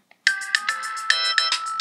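A mobile phone ringtone chimes loudly and close up in a steady repeating melodic pattern, sounding alone after a brief click.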